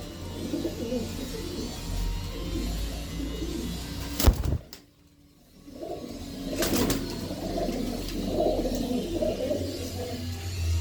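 Pigeons cooing in a loft at a pigeon club, a soft continuous murmur of coos and chirps near and far, briefly interrupted by sharp knocks and a short lull before the flock sound returns.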